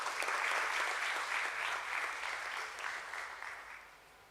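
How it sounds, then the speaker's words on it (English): Audience at a stock exchange listing ceremony for an SME company applauding, a full, even wash of clapping that starts strong and fades gradually toward the end. "Can we have a huge round of applause for him?"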